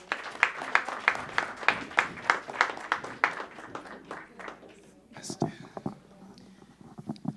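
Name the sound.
applause for Vincent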